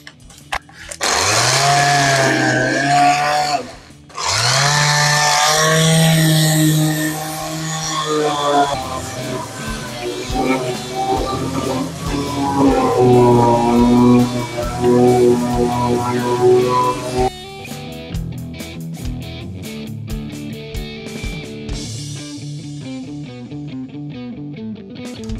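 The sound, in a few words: electric sander sanding wood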